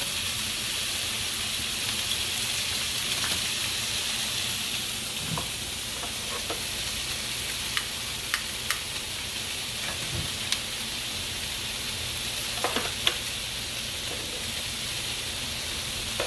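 Sausage browns in a pan with a steady, dense sizzle and hiss that fills the whole stretch, scattered with faint pops and occasional clicks of utensils, close and without talk.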